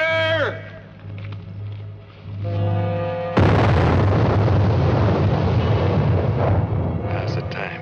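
A sudden loud explosion booms after a short lull, a dense rumbling roar that holds for several seconds before fading slightly, following shouted voices in an 1876 Leavenworth, Kansas prison setting.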